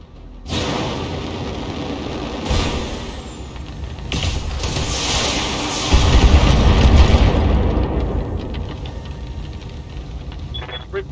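Heavy mech weapons fire and deep explosions boom repeatedly in the BattleTech urban warfare video game, loud and layered over a constant mechanical rumble, with the heaviest blast near the middle.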